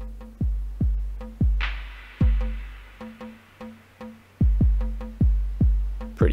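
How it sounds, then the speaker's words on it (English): Kick, rim and clap hits from VCV Drums modules in a modular synth patch, played as a steady looping pattern: deep booming kicks with short tails, dry rim clicks, and a single noisy clap burst early on, all clean with no voices. "kick, clap. They sound like this."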